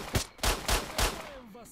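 Four sharp pistol shots ring out in S.T.A.L.K.E.R.: Shadow of Chernobyl, fired in an irregular rhythm and close by, each with a short tail, followed by a faint whine.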